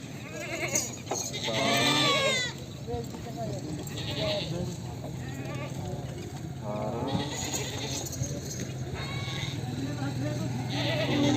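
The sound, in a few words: goat bleating at a goat market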